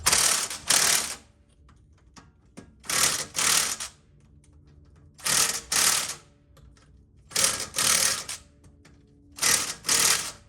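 A torque-limiting extension on a wrench clicks in quick ratcheting bursts while tightening the wheel nuts on a 1991 Audi, five separate bursts spaced with short pauses, close and crisp.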